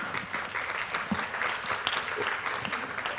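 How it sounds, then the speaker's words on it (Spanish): A convention audience gives a book author a warm round of applause, dense, continuous clapping from a sizable crowd heard at moderate distance, steady throughout with a faint voice or two underneath. "Un aplauso para Gloria con este ejemplar"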